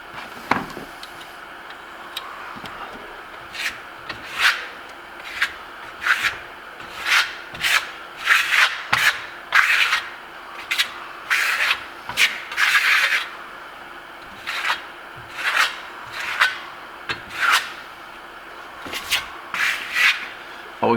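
A nearly flat steel trowel slides and scrapes over wet grassello Venetian plaster, giving a steady run of short, close rubbing strokes at an irregular rhythm, each stroke a quick swish, with no talking.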